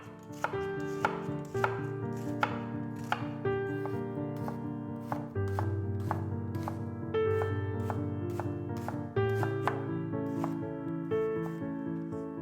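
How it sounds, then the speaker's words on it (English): A knife finely chops an onion on a board for a vegetarian ramen broth, with rapid repeated taps heard close over steady background music. "One onion, finely chopped."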